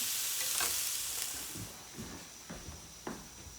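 Onions fry in a pan until soft and translucent, giving a soft, steady sizzle with a few faint stirring scrapes. Quiet and close, with no talk.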